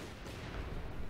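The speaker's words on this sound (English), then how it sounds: "Assault artillery's coming down your men" Assault artillery barrage in Company of Heroes 2, a dense continuous rumble of distant shelling and booms filling the whole stretch, loud and unbroken with no voices.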